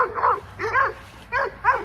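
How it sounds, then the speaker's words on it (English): A dog barking at other dogs nearby, four short yappy barks in a loose rhythm, fairly close and clear with no talking. "He over here barking at the other dogs"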